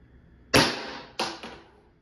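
A First Strike foam dart blaster fires a round with a loud, sharp close pop, followed by two quicker, fainter snaps of the mechanism.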